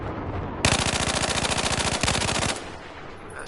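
Carbine rifle fire on a Battlefield 4 shooting range comes as two very fast, loud automatic bursts: a long string of rapid shots, a split-second break, then a shorter burst before it stops.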